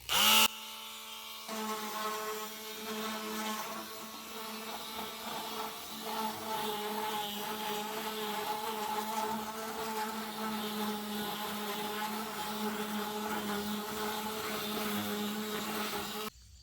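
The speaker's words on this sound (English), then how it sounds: "So I thought about my Ryobi detail sander edger thing. I just keep it moving and it works so well." A Ryobi detail sander runs with a steady buzzing whine as it sands a drop ceiling with 60-grit paper, a continuous close motor hum after a brief start.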